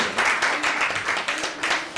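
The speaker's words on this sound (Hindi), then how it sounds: "एक बार फिर से जोरदार तालियां आज के दिन के लिए" An audience applauds at a live music celebration, a dense, steady wash of many hands clapping that holds for the full two seconds with slight swells.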